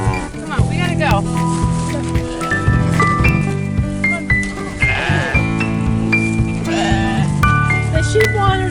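Sheep on a bee farm bleat several times over a steady hum and clatter of background noise, with people talking throughout.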